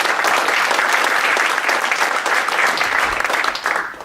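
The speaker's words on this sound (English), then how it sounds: "Give our panel a round of applause." An audience applauding a panel at a professional chat event, dense steady clapping that fills the room and tapers off slightly at the end, with no talking over it.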